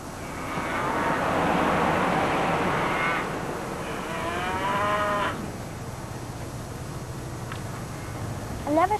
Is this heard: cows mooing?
yes